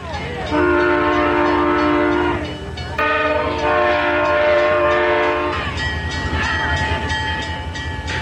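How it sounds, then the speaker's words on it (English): A train carrying nuclear weapons to a Trident submarine base sounds its horn in long, loud, sustained multi-tone blasts, with a short gap near the third second and a steady rail rumble continuing underneath. "The train was forced to stop for about 5 minutes before resuming its slow journey to the Trident nuclear submarine base"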